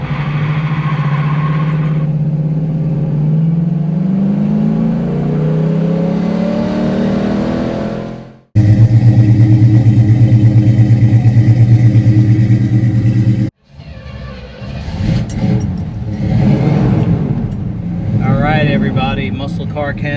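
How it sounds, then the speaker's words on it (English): A 1971 Pontiac Formula 350 engine drones and climbs through the gears while driving, a strong rising rumble cut by brief shifts, with someone talking over it near the end. "We're going out in a 71 Formula 350."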